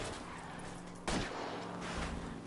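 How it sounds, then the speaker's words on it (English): A faint, distant gunshot rings out once during an L.A. Noire car chase, fired at a fleeing car's tires over a low steady rumble. "I'll try to shoot out his tires."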